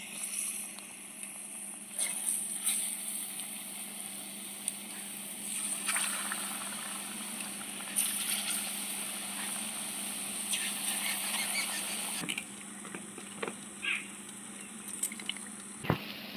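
Palm fritters made with sugarcane jaggery deep-fry in hot oil, giving a continuous soft bubbling hiss with scattered pops and crackles at moderate volume and no talking.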